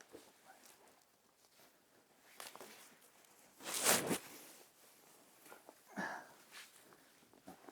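A zipper on a Jackery Explorer 2000 Plus solar generator carry case is pulled, giving a loud, close zip burst in the middle and a shorter one later, with soft handling rustles around them.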